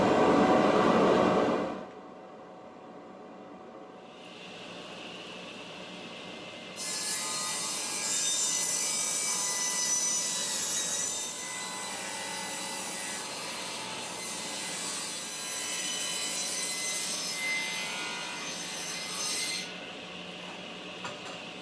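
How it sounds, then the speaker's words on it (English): A table saw with its fence set to 1 inch rips strips from a wooden board for a garden trellis, a steady loud whine of blade through wood running alone for most of the stretch after a brief start. "we'll cut off some 1 inch strips off this piece"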